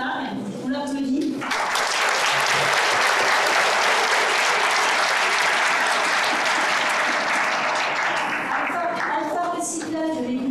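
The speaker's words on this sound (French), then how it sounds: "On leur applaudit." Audience applause at a conference on the hidden potential of waste, rising after a French speaker's brief words into sustained, dense clapping that holds steady, then fading as his voice returns near the end.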